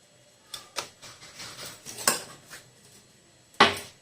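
Spoon and utensil clinks in a bowl as oregano and mixed herbs are stirred into a chicken sandwich filling, several scattered taps and scrapes with a sharper clatter near the end, no talking.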